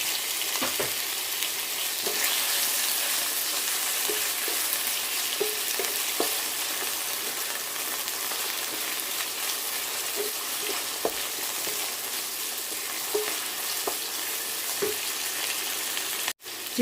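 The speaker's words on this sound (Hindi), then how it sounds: "इसको मैं सिर्फ उस वक्त तक इसको कुक करूँगी जब तक कि चिकन का कलर चेंज नहीं हो जाता" Chicken pieces for a sweet and sour pineapple chicken fry in a pan with a constant, even sizzle and occasional faint utensil clicks, ending on a sudden brief knock with no talking.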